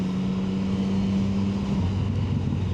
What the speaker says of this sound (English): engine accelerating